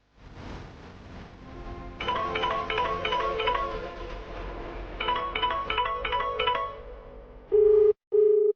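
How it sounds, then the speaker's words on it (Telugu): A telephone rings in repeated electronic trill bursts under quiet background tones, followed by a couple of short steady beeps at the end, with no speech. "రింగ్ అవుతుంది"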